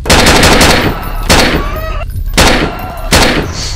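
Gunfire in the video game Grey comes as loud, close bursts of rapid shots, several sustained volleys separated by brief gaps, dominating the sound with no talking over them.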